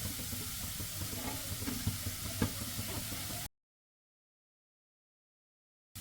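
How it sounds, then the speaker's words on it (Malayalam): Carrots stir-fried in a pan give a steady close sizzle with a few light stirring scrapes, then the sound cuts out into silence before a brief return at the end. "നമുക്ക് ക്യാരറ്റ് ചേർത്ത് കൊടുക്കാം"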